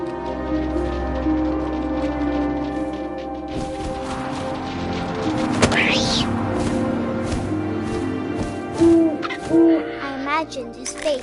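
Owl hooting in the video game What Remains of Edith Finch, repeated calls over a layered ambient game soundscape with wind and background music, fairly close and steady throughout.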